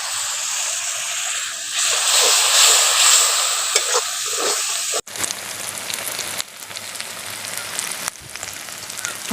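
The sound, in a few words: chicken masala with Kashmiri chili powder and water sizzling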